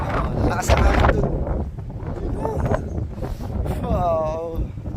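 Strong mountain wind roaring across the microphone on Mount Olis in Atok, Benguet, a steady loud buffeting throughout, with people talking over it.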